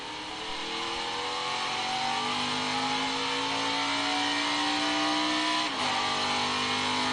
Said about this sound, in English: You hear that quick shift?